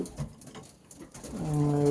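Pigeons cooing at a home loft, soft low calls rising near the end, with light shuffling and rustling around them.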